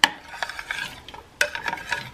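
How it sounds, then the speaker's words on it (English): A spoon stirs homemade cream of mushroom soup in a pot, a few close scraping strokes in two short bursts separated by a brief pause. "we're going to stir it in so it's completely smooth and creamy"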